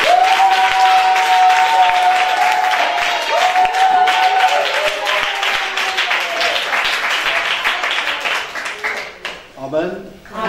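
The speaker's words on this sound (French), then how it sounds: "On applaudit pour le pasteur." A church congregation at a Christmas children's event applauds for the pastor, sustained loud clapping from a crowd with voices calling over it, fading toward the end as a speaker resumes.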